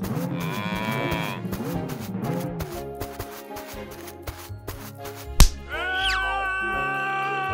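Cow moos from a toy farm diorama scene, a long drawn-out bellow over playful background music, with an abrupt thud and a sliding whistle near the end.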